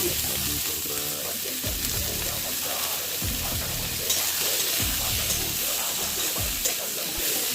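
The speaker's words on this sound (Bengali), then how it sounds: "দেখো পাঁচফোড়নটা ভাজা হয়ে গেছে। এবার আমি এর মধ্যে দিয়ে দেবো আম।" Mango pieces go into hot oil with fried five-spice for a pumpkin chutney, setting off a steady close sizzle with repeated scraping stirs from a spatula throughout.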